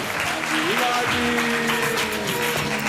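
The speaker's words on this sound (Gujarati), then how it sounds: "ખૂબ ખૂબ તાળીઓથી વધાવો આ વિદ્યાર્થીઓને" Applause for students at a school award ceremony honouring top Gujarati-language scorers: a steady wash of crowd clapping throughout, with a voice or tonal sound running over it.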